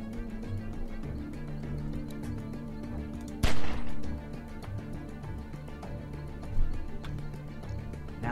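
A single sharp, loud gunshot in The Walking Dead video game cracks out midway through a quiet, droning game soundtrack, followed by a brief echoing tail and a fainter thump later.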